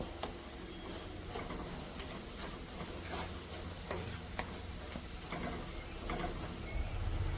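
Oil sizzles steadily in a pan as salted ground jackfruit is fried, a soft, continuous hiss broken by light stirring clicks and ticks, fairly quiet and close with no voices.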